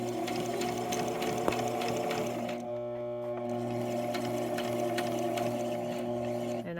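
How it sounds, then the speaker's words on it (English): Sewing machine stitching fabric for a face mask, a close, steady mechanical hum with a fast rattling needle rhythm that briefly changes pitch before running on continuously. "and I'm going to continue sewing."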